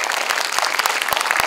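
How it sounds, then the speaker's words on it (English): Audience at a conference gives a loud, dense round of applause, many hands clapping close and continuous through the short burst. "please give ma'am a huge round of applause"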